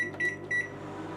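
Microwave oven running with a low steady hum and fan drone, broken by a few short high electronic tones near the start, heating a snack in a home kitchen.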